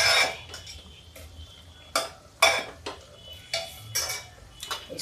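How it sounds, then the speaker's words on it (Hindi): A ladle stirs gravy in a cooking pot, giving scraping, clinking strokes at irregular intervals over a faint background hiss, loud and close with no talking. "इसको हम चमचा से चला देंगे"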